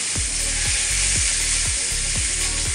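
Pomfret fish frying in a pan over low heat, with a loud, dense, continuous sizzle and a few regular dull knocks underneath, no voices.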